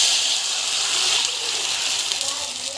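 Steady rushing water poured into a cooking pan for a few seconds, a broad close hiss with slight fluctuations, no voices.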